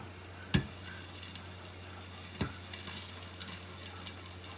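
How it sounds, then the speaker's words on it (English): Ingredients for turmeric curry fish sauteing: a faint, steady sizzle with two sharp clicks, spaced about two seconds apart, and a few softer taps. "So we will saute this for 5 minutes at aroma."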